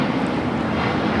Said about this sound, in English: This is Delta Airlines 991 taking off to JFK on the 767-300ER.